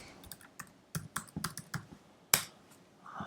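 A password is typed on a computer keyboard while logging into a Raspberry Pi, producing an irregular run of close, crisp key clicks with one louder strike near the end.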